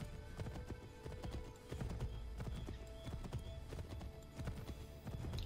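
Rapid, steady clip-clop of a horse galloping in Assassin's Creed III, hooves thudding close and continuously over a faint background.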